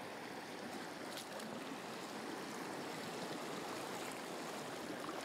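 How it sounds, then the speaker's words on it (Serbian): A small river flowing above two mini hydroelectric plants makes a steady, broadband rushing of water that is close and even throughout, with no voices. "Ovo je tok rečice iznad dve mini hidroelektrane."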